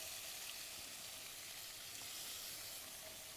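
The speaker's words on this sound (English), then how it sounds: "we're just whisking. This is a sauce whisk that makes it super easy" A roux for Southern tomato gravy being worked in a pot with a sauce whisk, heard as a steady close broadband sizzling hiss that holds evenly throughout with no voices.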